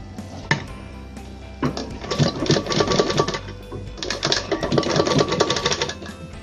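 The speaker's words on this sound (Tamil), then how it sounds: "இப்போ இதை நீங்கள் அப்படியே இதை மடித்து தைக்க போகிறீங்க." A sewing machine stitches along a folded saree corner, close and loud, in two rapid rattling bursts of needle strokes separated by a short pause, with a few clicks and knocks of handling before the first run.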